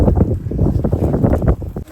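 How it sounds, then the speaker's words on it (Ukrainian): Strong spring wind gusts roar and buffet the microphone in a snowy garden in April, a loud, rumbling, fluttering rush that never lets up. "Вітер такий."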